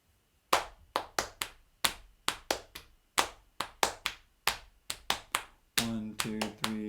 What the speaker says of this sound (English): and my left hand is tapping 4 beats over the same period of time